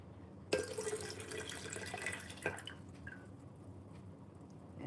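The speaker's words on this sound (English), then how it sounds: "And add your water into" Water poured into a container during an outdoor water ceremony, a steady splashing trickle that starts abruptly and runs for several seconds, fairly close, with soft dripping as the flow tapers off.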